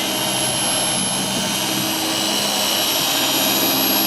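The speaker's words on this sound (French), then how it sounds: "Il effectue actuellement un traitement micro-rayures sur ce beau véhicule." Car body polishing machine working on a vehicle's paintwork to remove micro-scratches during a detailing session, a loud steady whir with a high whine that holds constant and close throughout.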